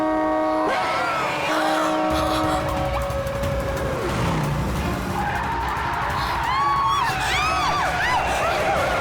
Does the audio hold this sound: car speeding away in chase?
yes